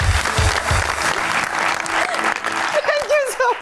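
A studio audience bursts into loud, dense clapping for guest Anoushay Abbasi on a talk show. The applause thins out after a couple of seconds as a voice begins speaking.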